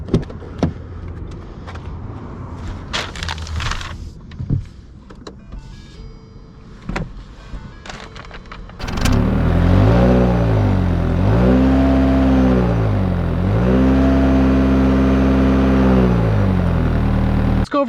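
A 2020 Lincoln MKZ Hybrid sets off after some quiet interior clicks and handling, then a loud, steady interior drone of the car pulling away and accelerating, with rising and falling tones as it picks up speed.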